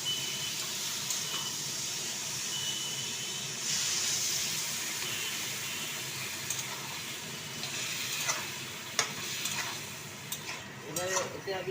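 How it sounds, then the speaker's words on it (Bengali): Water poured onto fried baby potatoes with spices cooking in a pan, a continuous loud sizzle and steamy hiss with occasional stirring clatter, up close and without talk. "এবার আমি এতে জল ঢেলে দেবো।"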